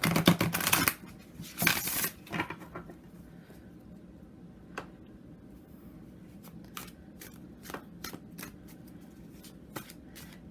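A World Spirit Tarot card deck is riffle-shuffled in two quick close flurries of fluttering card slaps, followed by sparse soft ticks and taps from the cards being handled.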